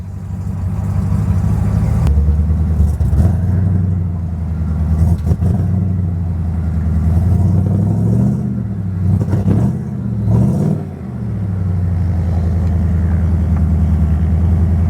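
A 30-year-old Ford Bronco long-travel build with a 5.8 V8 idles with a deep, throaty rumble, then rises in several loud revs before settling back to a steady idle, close to the microphone.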